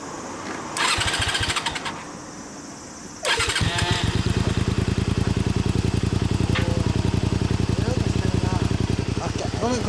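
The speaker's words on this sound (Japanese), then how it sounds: "エンジン音聞かせてもらえる？" A Honda Xelvis VT250 (MC25) V-twin motorcycle fitted with a Realize aftermarket muffler cranks over and fires, then settles into a loud, close, lumpy idle with a rapid steady pulse, while people talk nearby.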